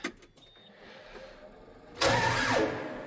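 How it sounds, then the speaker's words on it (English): Tractor with a dead battery cranks as someone tries to start it. A quiet stretch with faint clicks comes first, then a loud, harsh cranking burst runs from about two seconds to the end. "let's see if this tractor will start"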